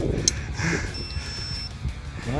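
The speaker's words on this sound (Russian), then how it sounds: "Дрончик до сих пор пищит." A small drone stuck on a cliffside at Cape Meganom beeps with a thin, steady high tone lasting under a second, faint beneath outdoor wind and ambient noise.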